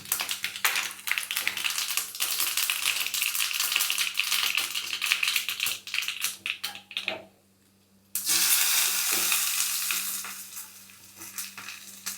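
Mustard seeds crackle and pop rapidly in hot oil, loud and close, with a brief pause before another burst of sizzling that gradually fades.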